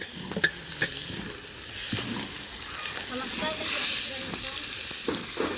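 Lemongrass frying in a pan for a Batak dish, a steady close hiss of sizzling oil with light clinks and stirring sounds throughout.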